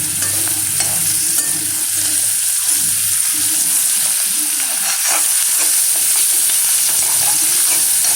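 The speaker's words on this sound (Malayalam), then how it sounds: "അപ്പോൾ ഗൈസ് നമ്മൾ ഇങ്ങനെ ഇളക്കിക്കൊണ്ടിരിക്കണേ" Idli upma being stirred in a pan, a steady scraping and soft sizzle running continuously and fairly loud close by, with no voices over it.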